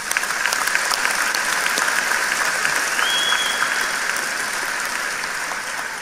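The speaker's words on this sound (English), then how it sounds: "Let's give them a round of applause." A crowd at a high school graduation ceremony applauds, a large hall full of steady clapping that holds strong, then eases slightly toward the end, with a faint whistle partway through.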